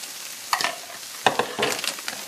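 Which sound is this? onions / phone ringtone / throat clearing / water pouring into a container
onions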